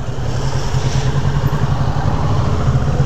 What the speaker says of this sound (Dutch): Hou die motor zoveel mogelijk rechtop.